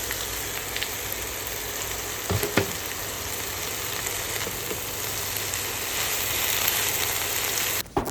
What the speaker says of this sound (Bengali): আর ভেন্ডি ভাজা করবো।